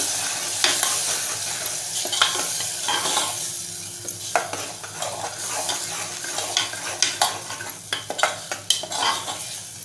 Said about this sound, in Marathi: कांदा खोबरं आणि गरम मसाला हे घालूया अलगत आपल्याला घालायचं आहे आणि छान परतवायचं आहे तेलामध्ये